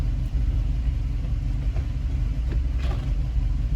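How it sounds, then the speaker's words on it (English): Subaru Brumby with new tyres and a new shifter driving slowly around a yard, a low steady engine rumble close by with no talking. "just go for a quick drive around the yard to prove that it works"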